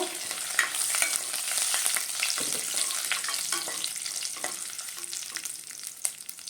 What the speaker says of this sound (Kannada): ನಾನು ಅರ್ಧ ಟೀ ಸ್ಪೂನಷ್ಟು ಸೋಂಪು ಹಾಕ್ತೀನಿ, 2 ಒಣಗಿದ ಮೆಣಸಿನ್ಕಾಯಿ, ಸ್ವಲ್ಪ ಕರಿಬೇವು. ಇದು ಫ್ರೈ ಮಾಡ್ಕೊಳ್ಳೋಣ.